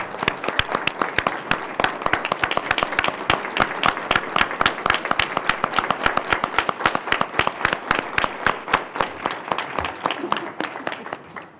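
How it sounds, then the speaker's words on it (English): Audience applauds a retiring Dr. Montgomery at a Board of Trustees meeting, a steady dense burst of many hands clapping that holds strong for about eleven seconds before thinning slightly at the end, with no talk over it. "Would you please join me in a round of applause for Dr."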